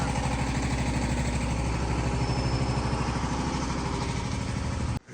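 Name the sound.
generator engine running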